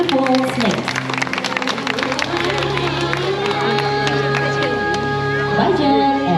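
Audience at a zoo animal presentation in Bali applauds and cheers continuously, dense clapping with a few whoops, while amplified speech and music carry over it.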